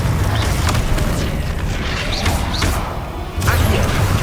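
Confringo explosive spell cast in the video game Hogwarts Legacy, a loud booming blast with crackling, whooshing bursts over dense continuous battle noise, with a brief dip before another impact near the end.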